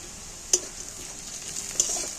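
Chopped green chillies and onions fry in a pan for a prawn and egg dish, a soft, even sizzle with two sharp clinks of a utensil against the pan.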